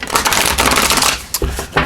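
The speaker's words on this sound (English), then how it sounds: "So let's shuffle those up." Tarot cards are shuffled close by in quick, loud bursts of riffling and flicking, with short pauses between the runs.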